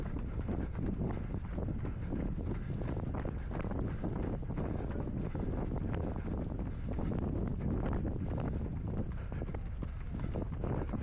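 Steady, heavy wind buffeting the microphone with low rumbling gusts throughout, no voices, constant and close, during a seafront half marathon in Southend.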